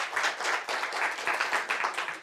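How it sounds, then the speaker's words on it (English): Audience applause fills a lecture hall during an evening internal medicine teaching session on drug addiction, a dense steady clatter of many hands close by that runs unbroken with no voices over it. "I'd like to give a warm round of applause to Dr. Chan."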